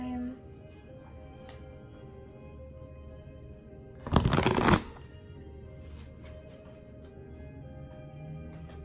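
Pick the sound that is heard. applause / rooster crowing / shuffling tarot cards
shuffling tarot cards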